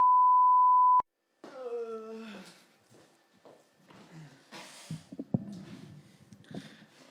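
A camera timer gives one long, steady electronic beep for about a second, then stops abruptly, followed by a voice talking, some rustling and handling noises nearby.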